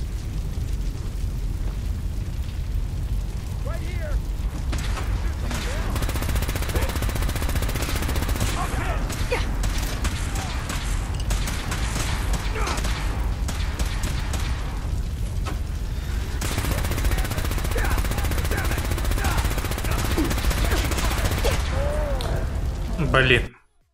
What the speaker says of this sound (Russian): Я увлекся стрельбой.